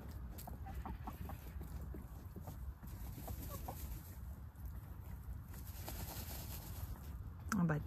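Hens cluck intermittently while dust-bathing in the dirt, soft close clucks over a steady low rumble, with a brief sharper call near the end.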